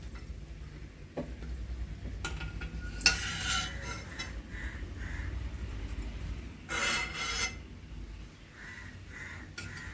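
Onions frying in oil in a pan for upma premix, a low steady sizzle with occasional bursts of louder crackling and a few light utensil scrapes.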